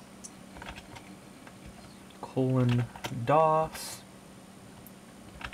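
Light, scattered key clicks from an IBM Aptiva computer keyboard as DOS commands are typed, soft and close, with a person talking over the tapping.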